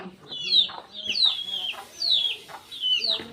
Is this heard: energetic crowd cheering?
no